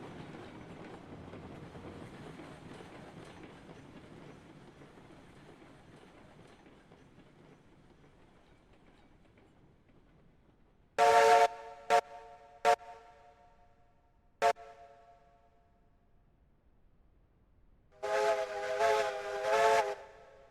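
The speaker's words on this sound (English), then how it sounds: "Train is going fast and has no plans on stopping." A fast-moving train in the railroad game Railroads Online, with a low rumbling run that fades over time. Several short sharp whistle blasts cut in, followed by a longer, louder whistle sounding in separate pulses near the end.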